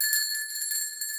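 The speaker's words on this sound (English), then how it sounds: "That's a good bell." A bell rings out with a bright, sustained tone that holds steady and close for the whole moment, heard during a live chat from Blade Show.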